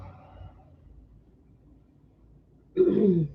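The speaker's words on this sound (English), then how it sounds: "I don't know where this cough just came from" A short burst of coughing near the end, loud and close, after a few seconds of quiet room noise.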